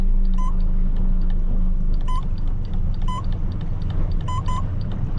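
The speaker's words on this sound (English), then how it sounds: "you should be able to hear the engine speed decreasing" A Honda 150 outboard engine on a Stabicraft 2050 Supercab boat, trolling at low speed, makes a steady, close rumbling drone, with short electronic beeps chirping over it at intervals.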